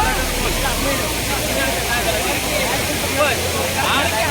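A steady, full roar of a waterfall at Sawadav in Konkan fills the scene without pause, with people's voices faintly mixed into the rushing noise.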